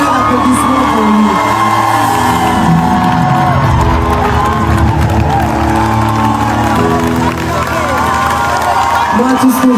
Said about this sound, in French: faites un tonnerre d'applaudissements pour lui.